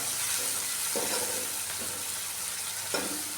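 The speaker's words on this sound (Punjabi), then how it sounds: "ਆਪਾਂ ਸਬਜ਼ੀ ਨੂੰ ਤੜਕਾ ਇਸ ਤਰ੍ਹਾਂ ਲਾਉਨੇ ਆ ਬਰੀਕ ਬਰੀਕ ਕੱਟ ਕੇ ਪਿਆਜ਼ ਤੇ ਫੇਰ ਤੜਕਾ ਲਾਈਦਾ ਰਾਜਮਾਵਾਂ ਨੂੰ" Finely chopped onions sizzle in hot oil as a tadka for rajma and potato curry, a steady frying hiss with occasional stirring scrapes and clinks.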